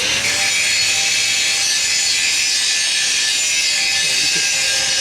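Fine casting sand shaken through a sieve while preparing a mold for cast iron wheels: a continuous loud, hissing rasp with a gritty texture, steady throughout and very close.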